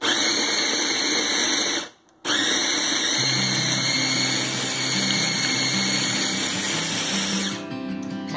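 A food processor grinds chickpeas for hummus, a loud steady whirring motor with a low churning rumble, cutting out briefly near two seconds and then running on until it winds down at the end.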